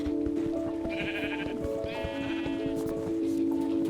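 Sheep bleat twice in the game Minecraft with the Minecolonies mod, two short wavering calls close together against a steady backdrop of game music and ambient hum.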